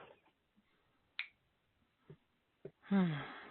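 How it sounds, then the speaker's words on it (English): Finger snaps at the close of a guided meditation session: a few sparse, sharp clicks spaced well apart in near-silence, followed by a louder breathy exhale. "you can open your eyes and snap your fingers"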